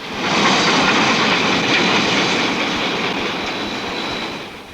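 Steam train running on a New Zealand mountain railway in Train Simulator, the Midland line through the Broken River Gorge, gives a loud, continuous rumbling roar with a faint clatter of wheels throughout and no voices.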